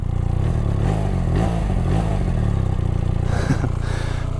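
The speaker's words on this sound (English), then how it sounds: "For now, we can fire this baby up." A BMW R 1300 GS motorcycle engine runs close by with a steady, throbbing idle and a light mechanical clatter, loud and continuous.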